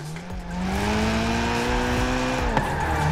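Drift car with a standard engine in Forza Horizon 4, its engine droning at a steady, slowly rising pitch over continuous tire squeal as the car slides, with a brief sharp knock late on.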